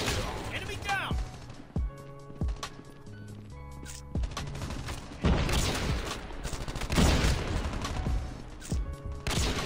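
Sniper rifle shots in the mobile shooter Call of Duty Mobile on the Kill House map: a few sharp reports scattered among game music and effects, with an in-game voice, fairly loud.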